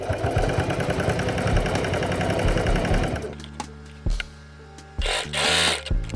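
A sewing machine runs steadily, stitching slowly around a fabric balaclava with a fast, even mechanical chatter. It then stops, leaving a few short bursts and clicks of the machine.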